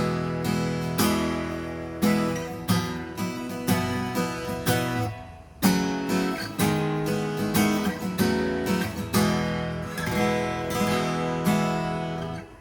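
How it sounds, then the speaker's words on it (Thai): Acoustic guitar chords strummed steadily and loudly, with repeated bright strokes ringing out alone, no voices. "อันนี้ก็เป็นเสียงตีคอร์ด"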